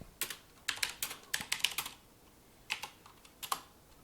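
Close, crisp keystrokes on a computer keyboard as a terminal command to assemble code with NASM is entered: a quick run of clicks, a pause, then a few more isolated taps, no speech.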